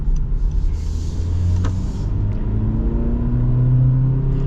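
A 2024 Honda HR-V Sport crossover accelerates in S mode, its engine a steady, low droning rumble heard from inside the cabin that holds evenly throughout with no talking.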